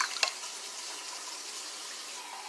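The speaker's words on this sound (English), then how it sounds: "you're going to add water around the rim of the potatoes" Water is poured from a can around the rim of potatoes in a soup pot, a soft steady splashing trickle after a brief clink at the start.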